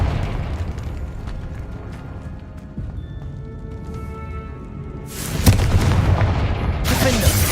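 Confringo fire spell blasting in the PC game Hogwarts Legacy, a low rumbling game soundscape that breaks into a loud burst of fiery explosion about two-thirds through, then another blast near the end.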